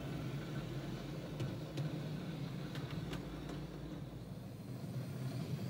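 A DCC model train locomotive, class 1-8, pulls away on an automatic shuttle route, giving a faint, steady motor hum with a few soft clicks, low in level and without voices.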